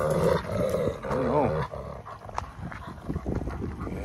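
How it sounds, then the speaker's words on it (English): A rescue wolfdog growls out in a big field, low rumbling snarls rising and wavering up close, while a person talks briefly over it. "Yes, he loves to growl."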